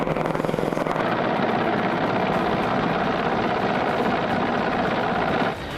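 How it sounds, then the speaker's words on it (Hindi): Air force military helicopters fly low over snowy Gulmarg at about 9,000 feet, their loud, steady rotor chop and engine roar filling the air continuously before easing slightly at the very end. "सन्नाटे को चीरती हुई वायुसेना के हेलीकॉप्टरों की कड़कड़ाहट दुश्मनों की नींद उड़ाने वाली है"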